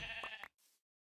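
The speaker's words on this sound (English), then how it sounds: "there's a sheep." A sheep bleats in the Minecraft 1.18 video game, one short nasal bleat that cuts off into a faint tail and then silence.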